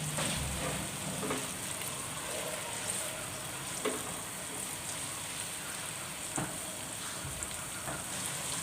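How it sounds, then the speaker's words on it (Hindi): Steady crackling sizzle of ginger garlic paste frying in hot oil, with occasional stirring scrapes and taps, continuous and fairly close. "हम वो पेस्ट इसमें डाल देंगे और इसे अच्छे से फ्राई कर लेंगे"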